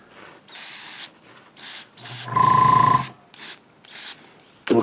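An airbrush sprays paint onto a studio-scale Return of the Jedi Death Star turbolaser tower model in short repeated hissing bursts, close up, with one longer spray carrying a steady compressor tone and brief pauses between passes.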